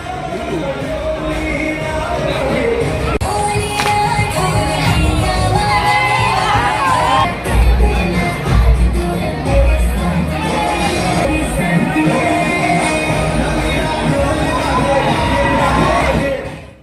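Large crowd at a Dandiya night held at a Durga puja pandal in Siwan, a dense roar of cheering, shouting and whoops over loud music, sustained and close throughout.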